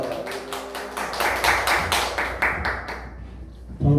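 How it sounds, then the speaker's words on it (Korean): A congregation at a revival meeting at a mission centre in Iksan claps to welcome the preacher, with steady rhythmic group clapping that thins and fades out toward the end. "할렐루야 하나님 앞에 영광 돌리며 박수로 맞이합니다"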